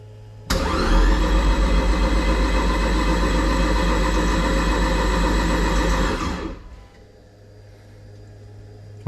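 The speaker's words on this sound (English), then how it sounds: "and start the engine" A Toyota MR-S with a swapped big-turbo 1.8 20V engine cranks hard on a start attempt, making a loud, sustained churning whir for about six seconds that then cuts off without firing.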